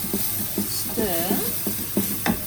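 Rice and cooked prawns being stirred in a hot pan for nasi goreng: soft scraping strokes and a light sizzle, with brief voice-like sounds partly over them.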